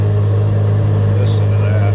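A 2023 Chevrolet Corvette Z06 engine idling loud and close with a deep steady exhaust drone, a brief sharp bark rising over it.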